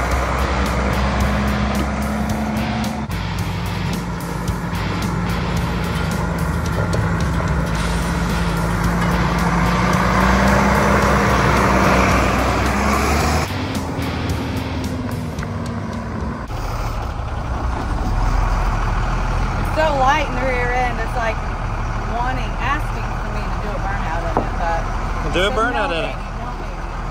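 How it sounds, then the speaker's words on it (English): A truck engine rumbles steadily and loudly throughout, with shifts in pitch as it runs, while people talk over it. "This is a really nice truck."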